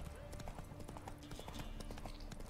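Horse hooves clip-clopping at a steady trotting rhythm in The Witcher 3 video game, quiet and close, with someone talking over the hoofbeats.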